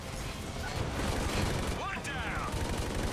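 Gunfire from the video game Army of Two: The 40th Day, a dense stream of shots under steady game noise, with a brief whooshing sweep partway through and a voice talking.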